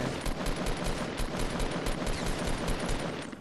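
Rapid suppressed pistol fire in a Fortnite match rattles along as a dense, steady string of muffled shots with game noise underneath for a few seconds.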